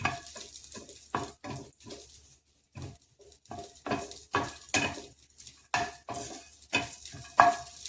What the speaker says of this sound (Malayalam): ഇത് വറക്കുമ്പോൾ നല്ല സമയം എടുത്ത് നന്നായിട്ട് വറുത്തെടുക്കണം